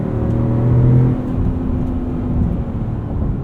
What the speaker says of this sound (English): Engine does sound good though.